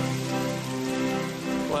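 Steady rain falls at a fishing lake during a carp fishing match. The hiss is dense and continuous, with a faint tonal hum under it and no talk.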